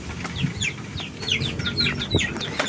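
Farm chickens cluck at feeding time, with repeated chirpy calls and low clucks from several birds close by over a busy yard background, with no talk.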